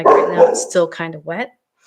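A dog barks and yips indoors near the start, right over a person talking during a paper-crafting session, then the talking carries on alone.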